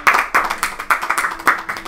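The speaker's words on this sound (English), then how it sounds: "Let's get one last round of applause for Hayden" A live audience at a show gives a short round of applause, with bursts of claps that come in uneven waves, loud and close, and no voices over them.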